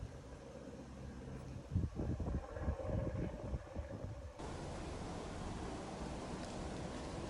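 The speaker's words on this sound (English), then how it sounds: "The wind on the skin." Wind blowing outdoors, a steady broadband rush close to the microphone, with a busier gusty, buffeting passage in the middle before settling back into an even hiss.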